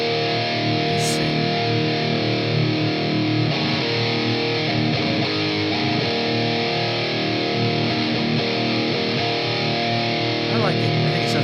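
A thick, heavily distorted metal electric guitar tone sustains densely throughout, dense and saturated, with chugging chords played continuously at close range.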